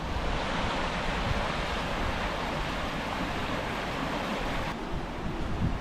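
A burn in Pitlochry, Scotland, flows in a steady, full rush of water that fills the whole stretch evenly, with no voices over it.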